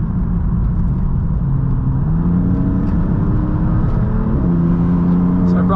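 Turbocharged car climbing a high-elevation mountain highway, a steady loud engine drone with shifting pitch as it pulls uphill, continuous road rumble throughout and a faint voice underneath.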